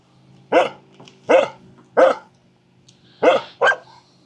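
A dog barks in a quiet room, five sharp, close barks in an uneven rhythm with short pauses between them and no talking.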